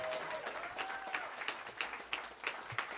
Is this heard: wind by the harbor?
no